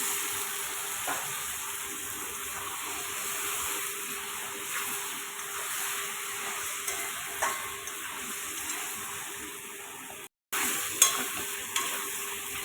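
Lightly boiled potatoes frying in a pan for a paneer aloo dum, a quiet continuous sizzle with occasional stirring clicks and a brief gap near the end.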